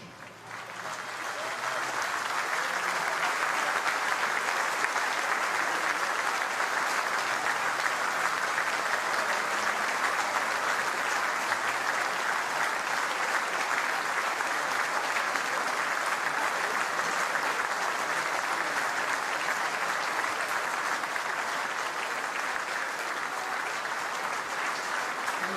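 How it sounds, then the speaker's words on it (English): A stadium crowd at Central Coast Stadium stands for a moment's applause during an A-League football match, a long, even wash of clapping held for over twenty seconds at moderate distance. "A wonderful moment's applause by the crowd here at Central Coast Stadium"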